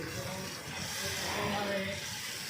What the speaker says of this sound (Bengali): এবারে দেখো, এটা ভাজতে থাকবো মশলাটা।